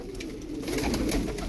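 Tumbler pigeons coo continuously in a loft, several soft rolling calls overlapping at close range throughout, with no voices.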